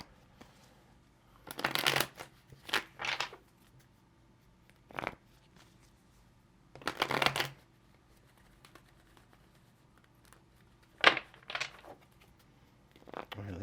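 Tarot cards being shuffled in several separate bursts of quick papery riffling and flicking, close and moderately loud, with quiet gaps and soft handling noises between them.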